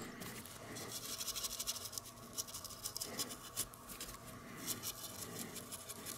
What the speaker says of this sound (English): I'm kind of scrubbing around the details right now just to kind of get a nice distempered look.